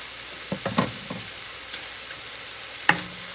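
Vegetables stirred and sautéing in a pan with garlic salt, a few quiet scraping clinks and soft sizzle, one sharper utensil knock near the end.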